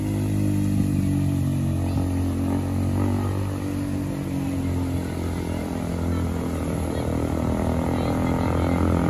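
A motorcycle rides through a flooded street after heavy rain, its steady engine drone running loud and continuous under a broad wash of water and traffic noise.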